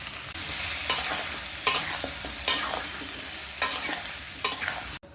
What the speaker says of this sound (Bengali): সবজিতে আমি একটুখানি হলুদ একটু নুন দিয়ে ভাজবো